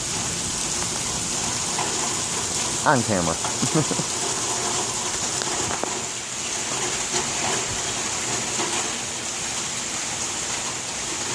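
Heavy rain from a storm hisses steadily and evenly throughout, with a brief voice speaking over it partway through.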